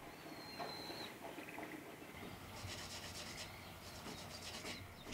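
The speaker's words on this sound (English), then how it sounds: "She repeats this process of burnishing and applying lacquer, burnishing and applying again, several times." Steady rubbing and burnishing of lacquer on a kintsugi-repaired vessel, a close, continuous scraping friction with repeated strokes growing brighter in the second half, with no talking.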